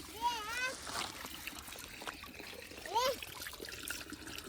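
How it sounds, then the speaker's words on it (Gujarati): Hands splash and swish in water at a village pond, with soft trickling and dribbling between strokes and voices, including a child's, talking nearby. "અહીંયા હાથ ધોવા માટે બેઠા છે."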